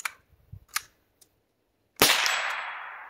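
A single sharp rifle shot from a Savage Mark II at an outdoor shooting session, close and loud with a ringing decay. Several faint clicks and handling noises come before it.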